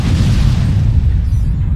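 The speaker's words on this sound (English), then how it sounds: "artillery right on that lot over there. Look at that artillery." Artillery fire as a heavy, loud, continuous low rumble of booms with no clear separate hits, close and dominant.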